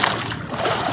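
Rough sea waves splashing against a small fishing boat, a brief close burst of churning, sloshing water spray filling the moment, with no speech over it.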